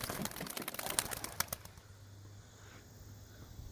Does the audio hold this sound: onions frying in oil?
no